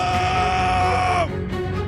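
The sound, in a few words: cartoon man screaming while being punched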